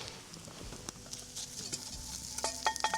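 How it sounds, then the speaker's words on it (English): Food in a pot being stirred over an open campfire on a tripod, with soft scraping and clinks over a low sizzling crackle, fairly quiet and close. "let's get some stirring on that thing."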